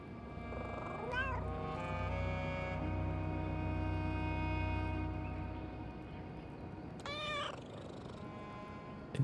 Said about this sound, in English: It even has different purr sounds.